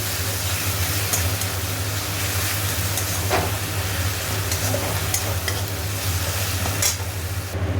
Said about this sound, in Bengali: টমেটো দিয়ে দিয়েছি, আদা রসুনের পেস্টও দিয়ে দিয়েছি, এর সাথে ভালো করে কষানো হোক